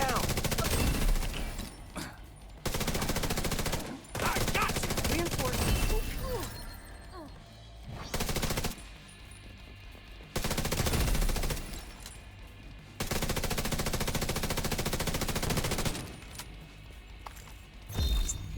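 The unsuppressed Ruthless gun in a video game fires in loud, sharp bursts of automatic fire, several volleys separated by short quiet gaps, close and harsh.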